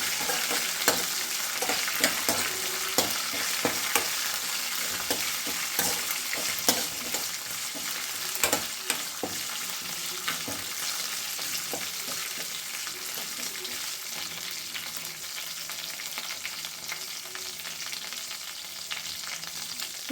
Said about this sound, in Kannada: ನೆಕ್ಸ್ಟು ಕರ್ಬೇವಿನೆಲೆ ಅದನ್ನು ಸೇರಿಸ್ಬಿಟ್ಟು ಮತ್ತೆ ಒಮ್ಮೆ ಕೈ ಆಡಬೇಕು